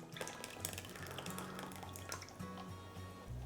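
Liquid pours faintly into a bowl of dry muffin ingredients, a quiet trickling and dripping with a low steady hum behind it.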